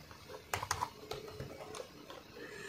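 Typing on a computer keyboard while filling in a Luxembourg visa application form, a quick irregular run of soft clicks and key taps, close by and fairly quiet.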